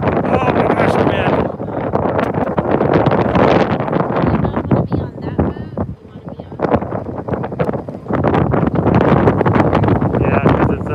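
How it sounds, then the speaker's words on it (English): Strong wind buffets the microphone on an open ferry deck, a loud, continuous rushing roar that dips briefly around the middle before surging back, with people talking beneath it. "Oh my gosh, the wind."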